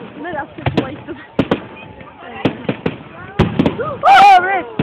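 Fireworks at Twin Lakes burst in a run of sharp pops and bangs, some close and loud, with crackling tails between them, while people talk and exclaim over the blasts throughout.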